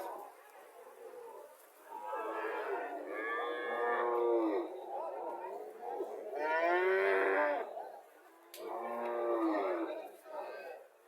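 A dairy cow moos three times in long, drawn-out calls, close and clear, with quiet pauses between them.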